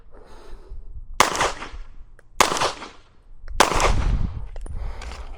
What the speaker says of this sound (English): I'm gonna shoot the head box just to see what it does.